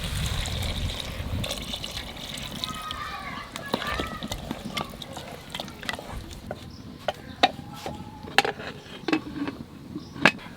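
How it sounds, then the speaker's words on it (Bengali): Water runs and trickles into a pot of chana masala for restaurant-style chole, a steady pour under scattered clinks and knocks from the pot. "একটু কষিয়ে নিয়েছি, এবার জল দিয়ে দেবো।"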